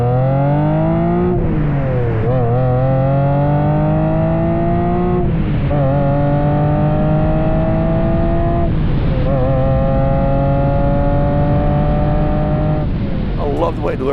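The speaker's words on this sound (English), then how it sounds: "It's also the end of the line of that flat V12, which makes this glorious sound." A 1995 Ferrari Testarossa 512M's flat V12 revs loudly up close, sustained engine roar climbing through several rising pulls with brief dips between them, filling the whole stretch.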